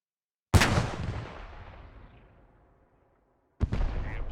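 Two booming artillery shots in the World War II game Post Scriptum, each a loud sudden blast with a long rumbling decay, spaced about three seconds apart.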